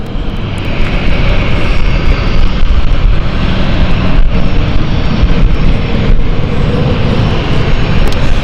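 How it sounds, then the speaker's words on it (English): A Swiss jet airliner departs on a delayed Geneva flight, its engines giving a steady, loud, broadband roar that holds constant throughout with no voices. "And here is Swiss going out. So Geneva flight, bit of delay on this one."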